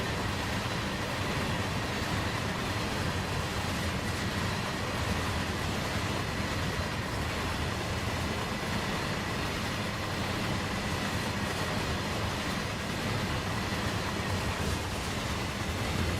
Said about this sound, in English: Everyone needs to hear a train in run 8 sooner or later.